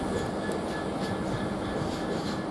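A GBRf freight train hauled by locomotive 66671 passes through Doncaster station, a steady, fairly loud rumble of wheels and wagons that holds evenly throughout with no voices.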